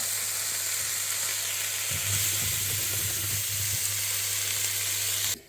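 Butter dropped into a hot pan of leek, wild mushroom, new potato and pancetta fricassee sizzles loudly and continuously, with a brief surge of crackling midway and a low steady hum underneath.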